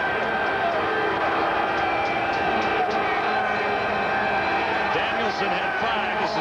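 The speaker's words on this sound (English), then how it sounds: "Now they start cheering" A stadium crowd at a CFL football game, Calgary Stampeders at Montreal Alouettes, roars and cheers steadily as a dense, continuous wash of noise that sits under a play-by-play commentator's voice.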